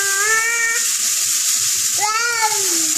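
Summer squash hits a hot pan over a fire and sizzles with a steady, bright hiss, while a cat meows twice nearby, once at the start and again near the end.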